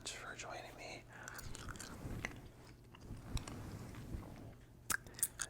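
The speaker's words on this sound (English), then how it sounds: "chewing this amazing gum" Gum chewing close to the microphone in a male ASMR session, soft wet smacking and squishy bites repeating irregularly, with a few sharper clicks near the end over low background noise.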